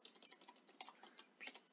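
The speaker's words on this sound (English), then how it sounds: "You want to keep typing until it reaches the amount." Rapid, uneven clicking of keys on a computer keyboard while text is entered into a WordPress page in the Gutenberg editor, soft and close with no voices.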